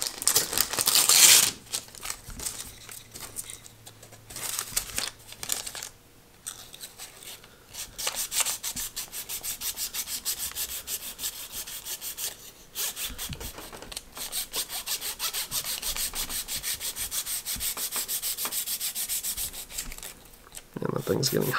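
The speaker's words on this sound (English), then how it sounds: "we're going to sand this fuselage a little bit" Steady scratchy sanding strokes on a carbon fiber catapult glider fuselage, close and continuous for about twenty seconds with a brief pause partway through and no speech.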